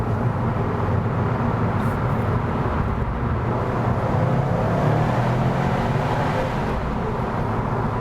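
A Subaru WRX STi driving through a road tunnel with the rear windows down gives a steady, loud roar of engine and road noise that fills the whole stretch without a break. No one speaks.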